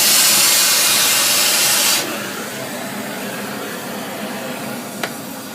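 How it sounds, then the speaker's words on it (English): An oxy-fuel torch with a scarfing tip cuts steel. A loud, steady roaring hiss runs for about two seconds, then drops to a quieter continuous rush with one small click near the end. "So you just cut it with the scarping tip."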